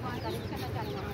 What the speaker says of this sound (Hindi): ये देखें भाई ये मुर्गा, ये पेयर ट्रायो कितने का जरा बताना दादन भाई